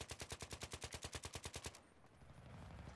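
Rapid automatic gunfire from Battlefield 3 during a capture-the-flag match, a steady burst of about fifteen evenly spaced shots that stops abruptly and gives way to low rumbling ambience.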